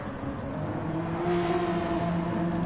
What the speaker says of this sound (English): And then Joe with a cleaner run onto the straight managed to pass Nils on the straight with a bit of slipstream.